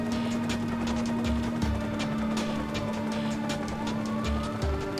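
A car chases close behind in the Watch Dogs video game, its engine droning steadily with tonal shifts in pitch and faint siren-like tones, no speech over it.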